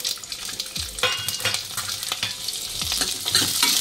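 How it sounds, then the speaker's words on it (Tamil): Peeled shallots fry for shallot sambar while a spoon stirs them, making a close, steady sizzle with clinking scrapes against the pan at irregular intervals and no talking. "நம்ம உரித்து வச்சுருக்கோம் இல்லையா வெங்காயம், அதை போட்டு நல்லா வறுத்துருங்க."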